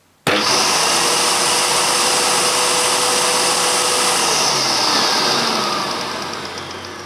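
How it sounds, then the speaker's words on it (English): A Hoover Purepower U3125 upright vacuum cleaner starts abruptly and runs with its agitator spinning, a loud steady motor whine and whoosh that holds for several seconds, then eases slightly toward the end. "let's have a look at the agitator spinning around"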